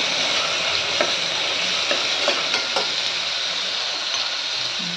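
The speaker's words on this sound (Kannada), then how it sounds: "ಎಣ್ಣೆಲಿ ಒಂಚೂರು ಫ್ರೈ ಆಗಬೇಕು." Jackfruit seeds frying in oil give a steady, dense sizzle that holds evenly throughout, with a few faint scrapes of stirring close by and no talk.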